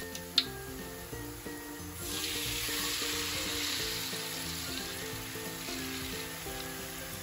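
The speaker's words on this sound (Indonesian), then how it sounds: "Selanjutnya kita goreng gunakan api sedang sampai peyek matang." Peyek, a peanut cracker made of batter with raw peanuts, frying in hot oil over medium heat, giving a steady, close sizzle that swells after a brief click near the start and holds at an even level.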